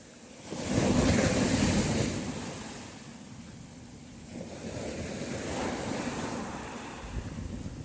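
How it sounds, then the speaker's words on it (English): Big ocean waves break on a beach at Huatulco, Mexico. A loud roaring surge swells and slowly recedes, then a second softer wash follows, with wind buffeting the microphone throughout. "Big waves today."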